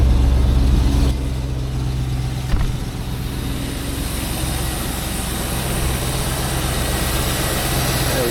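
A Land Rover Defender with a GEMS V8 conversion idles with a steady, deep rumble after a brief louder moment at the start, close and continuous throughout.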